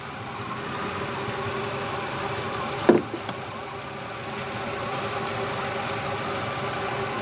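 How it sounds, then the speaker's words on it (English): A 2005 Ford F-150 with the 4.6 engine idles with almost no fuel pressure, a steady close mechanical hum and vibration, broken by one brief knock or clunk partway through, with no talk. "It's basically no fuel pressure, and the engine's still running."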